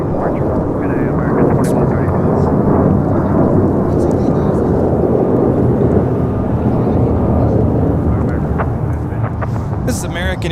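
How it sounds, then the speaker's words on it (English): An American Airlines Airbus A321 takes off from Los Angeles International Airport, with a loud, sustained jet engine roar and rumble alongside wind buffeting on the microphone, while people chat nearby. "2135 taking off to Orlando on an A321"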